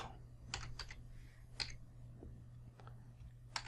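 Quick, light clicks of fingers typing a short name on a computer keyboard, several close taps in small bursts over a faint steady hum, with no talking.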